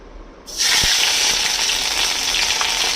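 Two inches of ginger hit a pan of hot ghee with a sudden loud sizzle, then keep frying in a steady close hiss with no talk.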